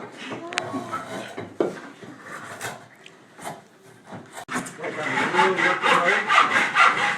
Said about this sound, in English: sawing, squaring off the top of his little bucket